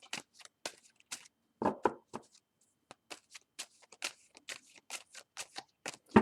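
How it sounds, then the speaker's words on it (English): Tarot cards are shuffled by hand for a three-card spread, a quick irregular run of crisp riffling snaps and flicks, close and alone. "Stop shuffling me."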